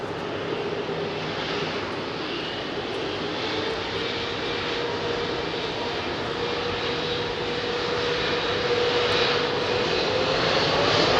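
A heavy Airbus A380 jet departs Heathrow, its engines a broad sustained roar that swells gradually louder toward the end, heard alone at a distance.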